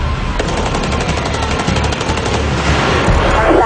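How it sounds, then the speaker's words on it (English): Rapid automatic gunfire rattles in dense bursts during the North Hollywood bank shootout, loud and continuous with overlapping shots and no talk. "Shots are still being fired to the rear of the bank."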